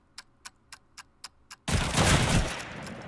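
Gunfire in a Call of Duty 2 match, opening with six evenly spaced sharp single shots, then a sudden loud sustained burst of fire and rumbling noise that runs to the end.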